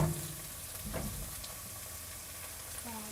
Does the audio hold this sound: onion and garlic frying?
yes